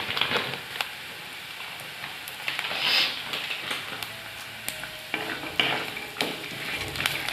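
Cashews frying in a pan for broken wheat payasam make a soft continuous sizzle, with scraping stir strokes and clinks recurring throughout at close range, and no talk.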